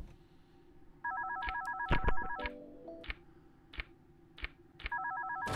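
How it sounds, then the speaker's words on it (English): A telephone in the video game One Night at Flumpty's rings in repeated electronic trilling bursts, broken by sharp clicks and thumps, at moderate volume with no speech. "Answer the damn phone."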